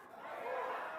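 A church congregation in Indonesia shouts together in a swelling crowd cry during an Independence Day celebration, a brief and faint mass of voices rising over about a second.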